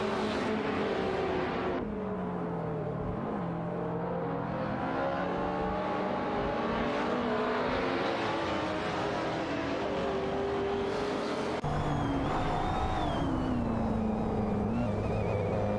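Race cars in an AI-driven racing video game roar continuously with engines revving and shifting pitch as they jostle for position, a dense layered whine swelling and dipping without a break.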